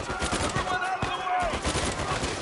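Gunfire crackles in the action game Uncharted 4, a dense close run of rapid shots amid busy game noise and music.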